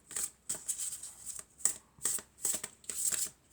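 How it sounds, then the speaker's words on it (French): Oracle cards are shuffled in several brisk, crisp bursts with short pauses between them, close and clear, and no talking. "on va prendre une carte de murmure de guérison"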